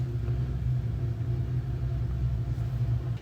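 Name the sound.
Wurlitzer theatre organ blower starting up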